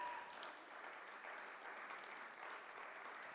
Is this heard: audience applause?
yes